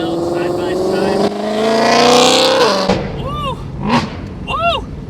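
Ford GT500 roars past loud and close, engine note rising then dropping away, followed by excited whooping voices.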